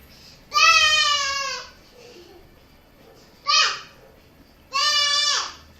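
A young child imitates a sheep with three bleating calls, two long wavering ones around a shorter one, voiced close and clear in a quiet home.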